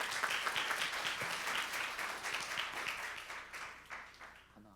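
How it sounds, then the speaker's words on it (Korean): Audience applause for a middle school students' presentation, a fairly faint crowd of clapping hands that starts full and gradually thins and fades toward the end. "우리 현북중학교 WCS 모듬의 발표를 큰 박수로 청해 보겠습니다"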